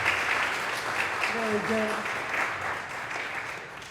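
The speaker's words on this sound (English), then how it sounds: "Give her a big round of applause while I introduce her" An audience at a journalism awards announcement applauds steadily throughout, with someone speaking briefly over the clapping.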